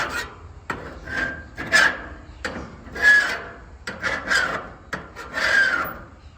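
Repeated rasping scrubbing strokes back and forth on a barbecue grill grate with a BBQ Daddy scrubber, about eight rough passes in a steady rhythm, close and fairly loud.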